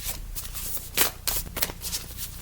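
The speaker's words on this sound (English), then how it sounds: "Let's just show you that I'm shuffling." Tarot cards are shuffled by hand in a run of quick riffling bursts and soft slaps, irregular and close, with no talking over them.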